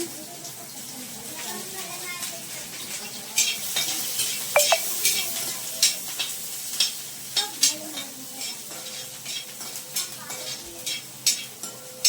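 Onion and green chilli fry in a pan for tikki chaat while a spoon stirs them, steady sizzling with a run of sharp scraping taps, close and fairly loud, and no talk.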